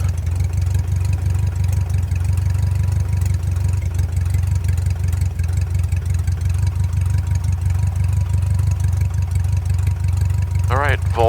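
Small airplane engine idling and warming up before takeoff, a loud, steady low rumble throughout with a faint chirp near the end.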